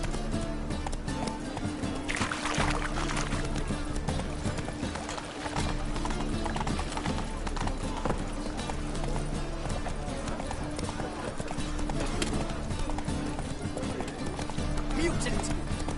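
The horse Roach gallops in the video game The Witcher III, a steady, rapid clip-clop of hooves beneath in-game music and ambience, while a voice speaks over it.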